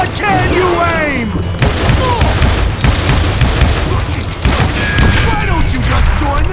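Loud, dense gunfire and heavy booms from the Western shooter game Call of Juarez Gunslinger rumble continuously, with voices shouting over the noise.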